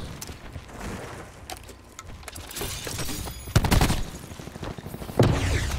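Rapid automatic gunfire from a weapon in Call of Duty Black Ops 4, dense crackling bursts with louder booming shots, heard close and continuous.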